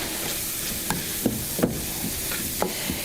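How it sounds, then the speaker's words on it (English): Flour being stirred into a shrimp and crawfish dip mixture in a pan, a steady soft sizzle with faint scraping strokes and a few light taps of the spoon, no talking. "You really don't want to see any bits of white when you're stirring this around."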